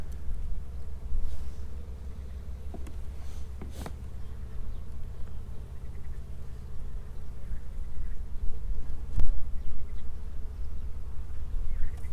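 Honey bees buzz in a steady, dense drone while bee packages are being packed for sale, a close swarm hum carrying through with a few sharp clicks and handling knocks.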